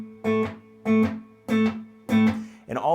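Fuzz-distorted electric guitar pumps two strings together in four evenly spaced short, buzzy chord stabs on the off beats, ending with a sliding note, close and without speech.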